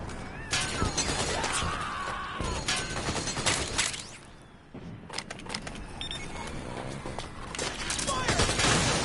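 Battlefield gunfire in Metal Gear Solid 4, rapid overlapping shots and crashing impacts in bursts, loud and chaotic, with shouting voices mixed in.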